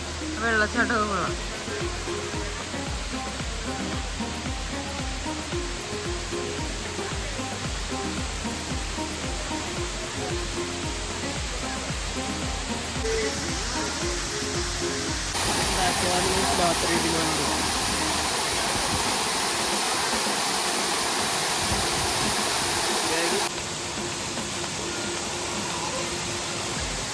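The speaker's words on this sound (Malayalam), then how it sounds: "വെള്ളച്ചാട്ടമൊക്കെ കൊള്ളാം." A waterfall at Ramoji Film City in Hyderabad gives a steady, broad rushing roar that fills the whole stretch and swells briefly louder midway, with voices talking beneath it.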